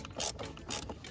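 Quick ratchet clicks tightening the air filter box on a 2013 Volvo XC90, a short burst of close mechanical ratcheting with no talk.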